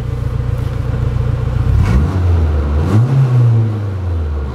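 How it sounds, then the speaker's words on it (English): Honda car engine fitted with a Hondata S300 revved up twice, a loud rising roar climbing in pitch and falling back, over a steady idle rumble, close by. "give it a couple revs"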